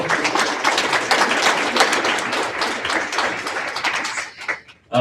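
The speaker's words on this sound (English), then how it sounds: "Can we give a round of applause for our panel?" An audience at a girls' college symposium gives the panel a full round of applause: dense, continuous clapping that fills the room for several seconds before tapering off abruptly at the end.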